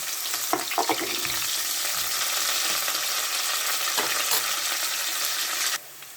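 Onion, green chilli and curry leaves sautéing in a pan for a South Indian boti curry, a continuous close sizzle with occasional stirring clatters, dropping abruptly quieter at the end.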